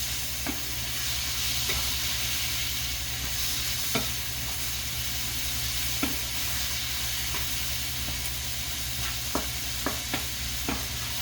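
Tomatoes and spices, including haldi, sizzle steadily in a pan while a spoon stirs them, with periodic sharp scrapes and taps against the metal over a constant bright frying hiss, up close and without talk.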